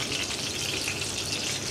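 Trout fillets fry in a pan, a steady bright sizzle and crackle of hot oil that holds even and fairly close, with no talking.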